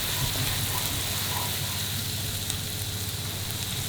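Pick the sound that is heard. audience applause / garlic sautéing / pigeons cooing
garlic sautéing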